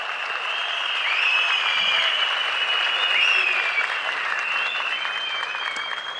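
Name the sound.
crowd applause at a political rally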